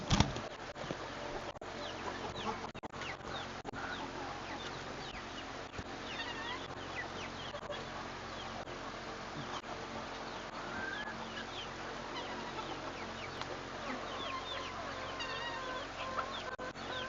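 Chickens clucking at feeding time in a farmyard, many soft overlapping clucks and chirps spread steadily through the stretch at moderate distance, with a sharp knock near the start.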